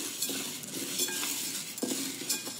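Roasted chana dal and toor dal for homemade sambar powder are scraped from a pan onto a plate, with a spoon stirring and clinking and a faint sizzle underneath.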